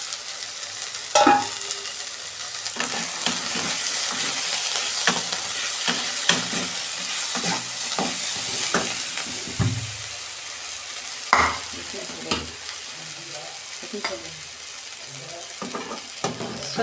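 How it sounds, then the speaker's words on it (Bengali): Vegetables fry in oil in a kadai, giving a steady sizzle broken by scraping stirs and clinks of the spatula against the pan, close by with no talking. "এইটা আমি একটু ভেজে নেব সবজিগুলো।"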